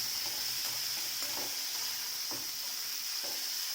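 Chopped onions fry in a pan for a dry ridge gourd curry, giving a steady close sizzle broken by a few soft scraping stirs, with no talking.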